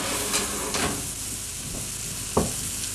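White wine poured into a hot flour roux in a pan, giving a steady loud sizzle with stirring scrapes and a few sharp clicks of a utensil against the pan.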